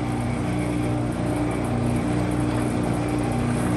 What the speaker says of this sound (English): Then you just slide your book in here. It's gonna clamp it, mill it, pick it up, clamp it, release it,